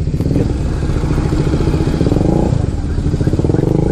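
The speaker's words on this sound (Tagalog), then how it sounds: "Puro motor." Many motorcycles, including GS models, pass along the NLEX expressway in a steady loud rumble of clattering engines that carries throughout without pause.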